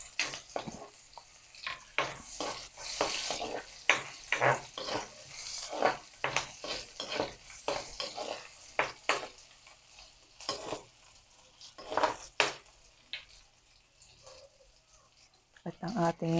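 Garlic and onion frying in a pan, with a soft steady sizzle under repeated stirring and scraping of a utensil against the pan, while someone talks in Filipino nearby.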